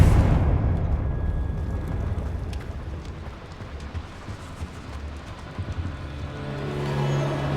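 Bombarda and Confringo spell explosions in Hogwarts Legacy, heard as a loud opening blast that fades into a long, rumbling low roar with scattered crackles and pops, moderately close and without speech.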